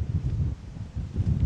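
A cyclist rides into a headwind on a road in southern Spain, and the wind buffets the microphone as a low, rumbling roar that pulses in short gusts.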